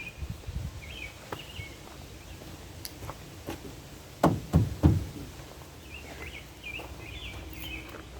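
Ford F150 OEM bed extender being flipped down and locked into place outdoors, a few sharp metallic knocks and clunks clustered in the middle, with faint birdsong and quiet rustling around them.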